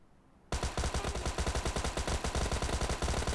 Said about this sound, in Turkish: Vuruyorum vuruyorum ölmüyorsunuz